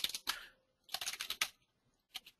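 A computer keyboard is used to type a VBA formula in Excel, producing quiet, quick clusters of keystrokes separated by short pauses, with no voices.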